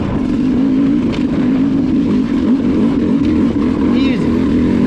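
A hard enduro motorbike engine climbs a modest hill in second gear, a steady loud low drone that holds its pitch with little revving, with a faint voice partly audible over it.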